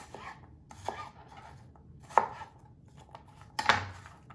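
A knife cuts jicama on a cutting board in a few irregular, quiet thuds spread over several seconds, with the last two the loudest.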